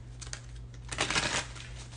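Tarot cards being shuffled by hand, a soft papery riffle with a short burst of brisk card flicks near the middle, close and fairly quiet over a steady low hum.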